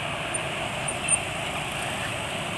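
A motorcycle engine runs steadily and roughly after an oil change to Unioil Gold 20W50 PCMO, a constant close drone with a harsh, buzzy texture and no talking.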